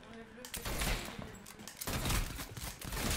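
Rifle shots in a first-person shooter video game, one sharp report near the start and another after a short gap, each followed by a ringing noisy tail, fairly loud with voices around.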